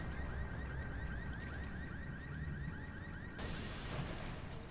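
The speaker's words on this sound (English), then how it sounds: "That's a car alarm." A car alarm in the video game Resident Evil Revelations 2 warbles in a fast repeating rising tone, moderately distant over a dull ambient rumble, before a sudden burst of broadband noise near the end.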